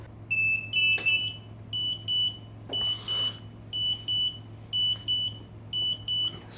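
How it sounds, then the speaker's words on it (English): A hoverboard with a battery balancing fault beeps continuously, short high electronic beeps in quick pairs and triplets repeating at a steady pace over a low hum, fairly faint and with no talking. "it was continuously beeping because this balancing is out"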